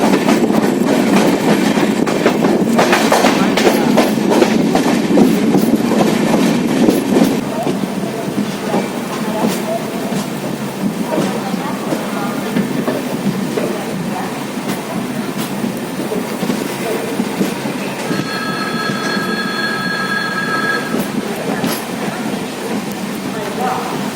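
An LHB-coach Bandra–Madgaon express train rolls steadily along the rails, a loud, close, continuous rumble with rhythmic clatter that eases slightly after the first few seconds.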